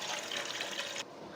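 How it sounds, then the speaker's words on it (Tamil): Strained tamarind water pours into a cooking pot while sambar is being made, a close, steady splashing gush that cuts off abruptly near the end and leaves a faint residual trickle. "நம்ம ஊற வச்சுருந்தோம்ல புளியை நல்லா கரைச்சிட்டு இப்போ வடிகட்டிட்டு பாத்திரத்தில் சேர்த்து கொடுத்துக்கோங்க."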